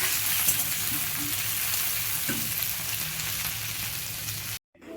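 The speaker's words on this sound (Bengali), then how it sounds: "এই যে রান্না হচ্ছে আমার ভেন্দি আলু তরকারি" Okra and potato curry fries in a pan in a small home kitchen, a steady loud sizzle with occasional stirring scrapes, cutting off abruptly at the end.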